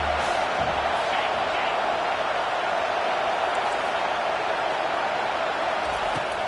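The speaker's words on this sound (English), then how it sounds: "how nice is it to have the home crowd going absolutely bananas" At a Michigan home football game, a huge stadium crowd sends up a steady, dense roar of cheering that holds at full volume throughout with no pauses.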